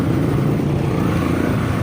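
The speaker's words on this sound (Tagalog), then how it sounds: "Motorbikes." Motorbikes near the Premio Motorbikes shop, a steady, loud engine drone running the whole time with a low rumble and no clear pass-by swell.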